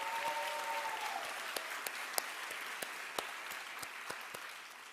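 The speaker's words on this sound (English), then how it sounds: "Can we clap again for Danez?" Audience clapping at an author conversation event, a dense, even round of applause with a few crisp individual claps popping out, moderately quiet and steady for the whole stretch.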